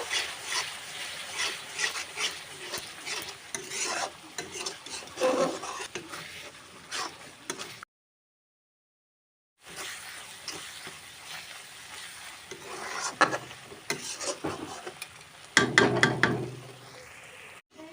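Turmeric and Kashmiri red chilli powder sautéing in a pan produce a soft sizzle with frequent scraping and tapping of a spatula, broken by a short silent gap, then louder stirring clatter toward the end.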